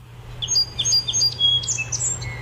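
A series of short, high chirps and thin whistled notes from a sparrow, repeating over a steady low hum in the background.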